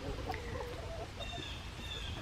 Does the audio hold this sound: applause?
no